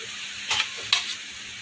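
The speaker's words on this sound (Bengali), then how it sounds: "জিরেটা ফোড়নে দিয়ে দিয়েছি" Cumin seeds tempering in hot refined oil in a kadai give two brief sizzling, hissing bursts over a quiet background.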